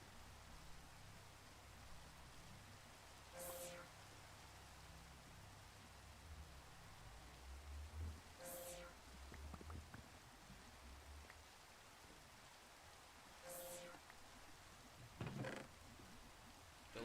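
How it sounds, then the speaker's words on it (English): Night rain in the video game Minecraft falls as a soft, steady hiss, quiet and unbroken, with a few sharp clicks breaking through now and then. "I think it's really calming in Minecraft"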